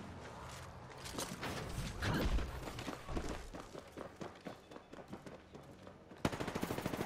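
Automatic weapon fire in the Apex Legends video game, bursts of rapid gunshots mixed with footsteps and impacts, fairly close and busy, with no talk over it.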